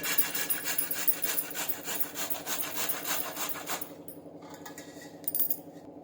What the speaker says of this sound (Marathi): मागची आणि पुढची बाजू काढून टाकते आणि या किसणीने पूर्ण किसून घेते